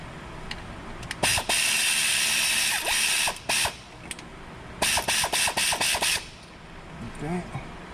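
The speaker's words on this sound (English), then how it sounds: "I think I have to remove one bolt here from the transmission." A ratchet works a bolt out of a Hyundai Tucson transmission during a dual clutch actuator replacement, giving several loud runs of rapid clicking broken by pauses, with a person talking in between.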